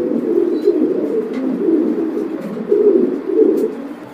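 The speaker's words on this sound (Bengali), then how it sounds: "এটা শার্টিং ভাই, শার্টিং কবুতর" Satin pigeons coo in a pigeon market, a steady run of low, throaty, rolling coos close by and fairly loud, with no talk over them.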